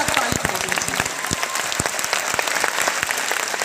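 Loud audience applause fills a Patna hall at a grand meet-up for a current affairs teacher, a dense, sustained clatter of many hands with sharper individual claps standing out, running steadily throughout.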